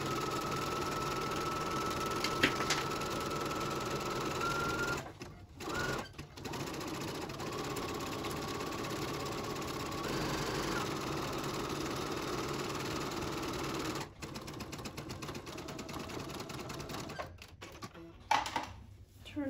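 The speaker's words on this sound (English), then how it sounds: "you're just gonna sew the zigzag between the seam and the raw edge" A sewing machine runs a zigzag stitch along a scrub cap seam, between the seam and the raw edge, a steady close mechanical whir with brief pauses and restarts, no talk over it.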